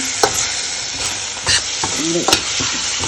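Vegetable fenugreek curry sizzles steadily as it fries in sesame oil, with a spoon scraping and stirring through it in several close, distinct strokes over the continuous frying hiss.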